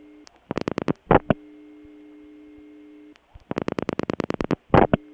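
Telephone call over a real wire trunk through a Bell 355 step-by-step office in Kent, Connecticut: two bursts of rapid clicking pulses, each ending in louder buzzy tones, separated by a steady low hum, with no voices.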